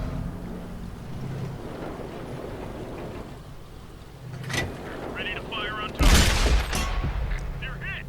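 100mm tank gun shots in the console game World of Tanks, a couple of sharp booming blasts with crackling tails, the loudest near the end, under a low rumbling battle ambience.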